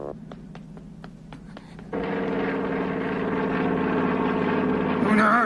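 A cartoon airplane flies overhead. A few sharp clicks give way to a steady propeller drone that grows slightly louder and fuller as it passes.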